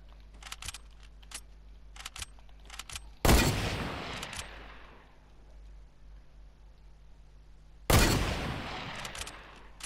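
Fortnite gameplay with light clicking and jingling item sounds, then two loud, sharp gunshot blasts several seconds apart, each followed by a decaying rumble.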